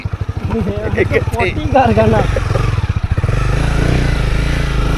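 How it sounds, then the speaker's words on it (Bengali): A Honda motorcycle rides along a village road in rural Jharkhand, its engine droning steadily and close throughout, under people talking. "এই প্রথম এখানে বাইক আসলো"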